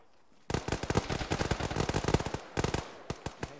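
Rapid, close automatic gunfire in ArmA bursts out abruptly after a short quiet moment, a dense run of sharp cracks lasting about two seconds, then a pause and a few more single and burst shots, with no talking.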